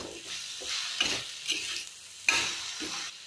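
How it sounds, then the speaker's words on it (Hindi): Fenugreek leaves with potatoes are stirred in a frying pan on a gas stove, soft scraping strokes repeating in a loose rhythm over a faint sizzle, close and quiet, without talking. "अब इसमें हम नमक डाल देंगे अब अच्छे तरीके से मिला देंगे।"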